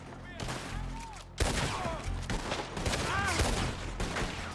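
Gunfire in the Western video game Red Dead Redemption 2, repeated loud shots in a dense firefight with shouting voices and other game sounds mixed in.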